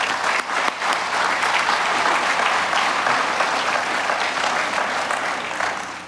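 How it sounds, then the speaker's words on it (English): An audience gives Frank DeBella a big round of applause, a dense, steady wash of clapping that holds loud and even for about six seconds before easing slightly at the end. "So I'd like to give Frank a big round of applause."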